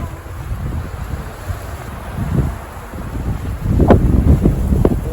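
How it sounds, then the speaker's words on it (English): Wind buffets the microphone in steady low rumbling gusts, growing stronger and gustier toward the end, with no voices. "Windy!"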